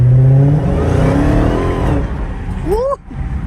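Dodge Hellcat engine revving loudly nearby, a deep rising roar that swells and falls, with a whining sweep near the end; people's voices mix in underneath.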